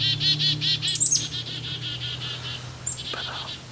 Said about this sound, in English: The bird is extremely close.